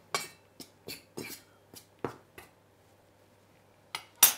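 Dry ingredients for chocolate Christmas cookies being stirred in a bowl, heard as a few sparse, brief scraping and clinking strokes against the bowl, fairly close and quiet, separated by pauses of near silence.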